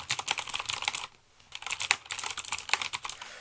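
Rapid clacking keystrokes on a new, well-built computer keyboard, close and fairly quiet, in two bursts of steady typing separated by a short pause, with no talking.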